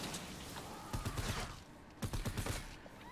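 The Wraith assault rifle fires in Fortnite Save the World: quick clusters of shots in a burst-like rhythm, fairly close, over busy game ambience with mechanical clanks.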